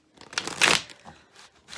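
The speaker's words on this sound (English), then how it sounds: "So I'm shuffling the cards" Tarot cards being shuffled by hand, giving a few soft papery riffles and crinkling bursts, loudest at the middle and then fading to light flicks.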